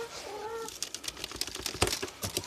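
Backyard chickens cluck and chatter in a rapid, uneven series close by, with a few sharper squawks and wing rustles mixed in and no voices.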